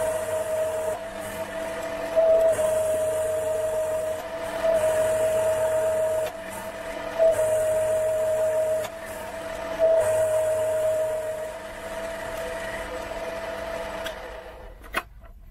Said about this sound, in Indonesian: Pakai bubut mini.